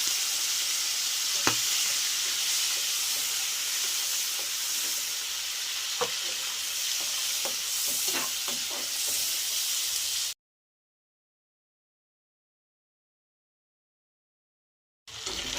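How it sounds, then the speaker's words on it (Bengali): Fish fat pieces coated in salt and turmeric sizzle loudly in hot oil with a dense, steady hiss and occasional sharp pops, then a sudden cut to silence before the frying returns briefly. "এর মধ্যে আমি এবার দিয়ে দেবো আমি মাছের তেল, নুন হলুদ মাখানো মাছের তেলগুলো।"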